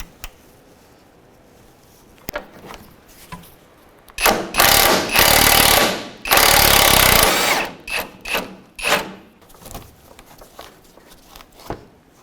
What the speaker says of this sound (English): Now we're going to take our last bolt out of the control arm.